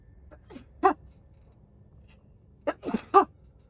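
Two sneezes, the second a quick doubled burst, punctuate a quiet room with faint background hum; near and moderately loud.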